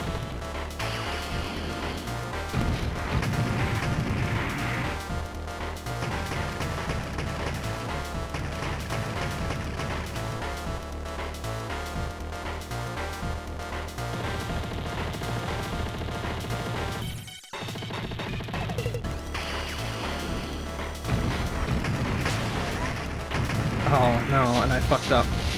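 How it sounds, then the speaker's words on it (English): Dense explosions and gunfire from the shoot-'em-up video game Cho Ren Sha 68K, a continuous loud barrage of crashes and blasts over game music, with one brief dropout partway through. "I forgot those explosions too."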